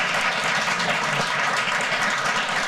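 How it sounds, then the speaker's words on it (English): A steady, dense wash of applause from a meeting audience in Franklin County, continuous and fairly loud throughout with no voices over it. "can we just give them one more round of applause?"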